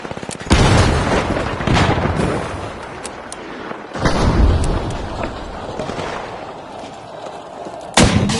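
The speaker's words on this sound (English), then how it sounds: "Ready to detonate! C4 set!" C4 explosive detonating in the video game The Finals, heavy booming blasts at the start, around four seconds and near the end, with rumbling debris and game effects between them.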